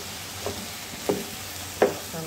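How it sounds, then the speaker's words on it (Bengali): Rice being stirred as it fries in a pan, with a steady sizzle underneath and three distinct scraping stirs spaced apart, close and moderately loud, no voices. "ভালো করে নেড়ে মিশাতে হবে ভালো করে।"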